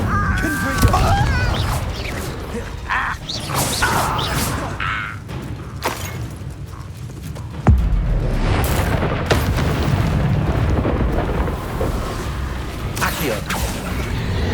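Confringo fire-blast spell cast in the Hogwarts Legacy video game, heard as booming explosive bursts with whooshes amid continuous battle noise, one sharp loud blast standing out partway through.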